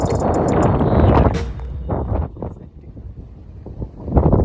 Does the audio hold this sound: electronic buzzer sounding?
no